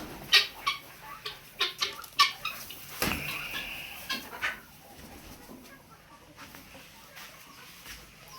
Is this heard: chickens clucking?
yes